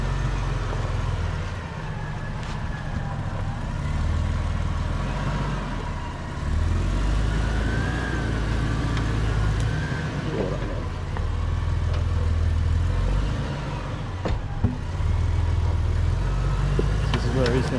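An off-road vehicle creeps up a rough bush track at low revs in the Watagans, its engine a low, steady rumble in the background while a person talks over it.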